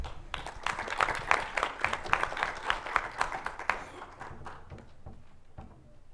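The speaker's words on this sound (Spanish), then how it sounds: "Un aplauso, por favor." A room of people clapping at a talk on journalism in Cochabamba, Bolivia, brisk and fairly dense at first, then thinning and fading away over the last couple of seconds.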